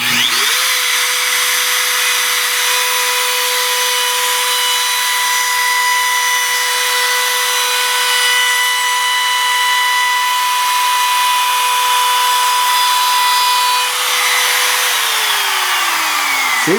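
A wood router cuts stock for a small table loom with a loud, steady, high whine that holds for about fifteen seconds before it spins down.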